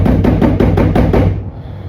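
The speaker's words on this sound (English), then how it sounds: "he's beating the shit out of that door" A door takes a rapid run of about seven heavy, evenly spaced blows at close range, loud and hollow, before the pounding suddenly stops.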